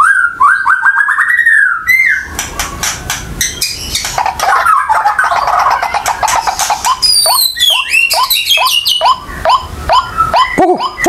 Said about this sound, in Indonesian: Itu suara burung ruak-ruak ya